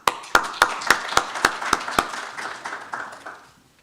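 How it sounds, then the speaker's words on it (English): A round of applause at a university event, starting as about eight distinct, evenly spaced loud claps, then loosening into scattered clapping that fades away within a few seconds. "Round of applause."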